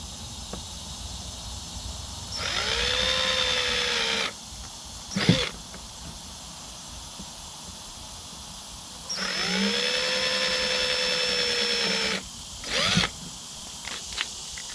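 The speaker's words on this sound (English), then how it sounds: "just drilled some pilot holes there" Power drill boring pilot holes into a Lightning Strike kayak hull, two sustained whirring bursts of about two and three seconds, each followed by a short click and rattle, close and fairly quiet.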